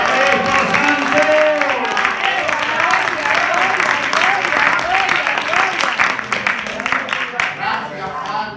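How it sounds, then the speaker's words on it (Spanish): A church congregation at a Spanish-language Christian worship service bursts into sustained, dense applause that carries on for several seconds before thinning out. "A esa alabanza, añádele un aplauso al Cristo Santo."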